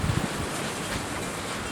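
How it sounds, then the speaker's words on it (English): Strong wind blows steadily outdoors on a porch, a constant broadband rush with low rumble, loud and close against the microphone throughout, with no talk. "Wind's blowing too much to burn."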